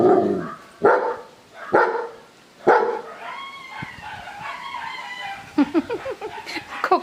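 Several dogs bark loudly at a home, sharp strong barks at first, then a busier mix of howling, whining and yipping calls that overlap and build toward the end.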